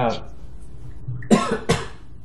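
A voice briefly trails off, then two sharp coughs follow in quick succession, close and fairly loud.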